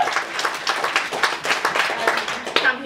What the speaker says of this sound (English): can we get a round of applause for librarians?